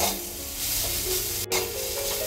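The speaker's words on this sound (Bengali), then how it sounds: "এই পাতা ভাজার সময় দেখুন" Gourd leaves frying in a pan with garlic and black cumin, a steady close sizzle and crackle with brief stirring scrapes and one short dropout partway through.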